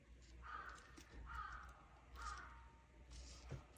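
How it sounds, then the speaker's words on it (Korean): A crow caws outdoors four times in a slow, even rhythm, harsh calls heard at a distance and fairly faint against a low background hum. "까마귀 또 온다. 뭐라고 하는 걸까? 깍깍거리네."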